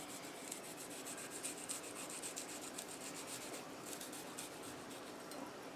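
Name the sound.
coring and peeling an apple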